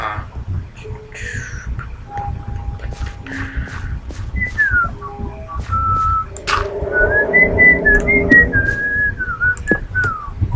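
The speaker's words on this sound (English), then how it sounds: "I randomly break out into whistling" A person whistles a wandering melody of sustained and gliding notes at close range, with soft background noise and faint clicks underneath.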